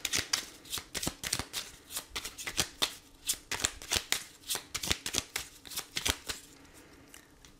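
Oracle cards being shuffled for a tarot-style reading, a close, steady stream of crisp riffling flicks and taps lasting several seconds with no speech.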